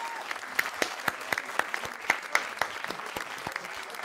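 Audience applause at a poker tournament: a moderately quiet burst of clapping from a crowd, with sharp individual claps standing out over the steady patter.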